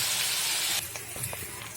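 Farmed fish roe frying in hot oil in a pan gives a steady, close hiss that cuts off sharply, leaving lighter sizzle with a few scattered pops and crackles.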